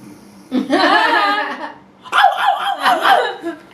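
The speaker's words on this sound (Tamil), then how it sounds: "நாய் குலைக்குது." Barking and yelping in two close, loud bursts in a Bigg Boss Tamil house, with a chuckling quality mixed in.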